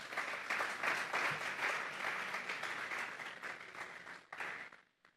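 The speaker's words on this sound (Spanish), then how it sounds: "Vamos a darle un fuerte aplauso pues al Señor." A church congregation applauds at a Sunday service, a steady wash of clapping hands that fades out near the end.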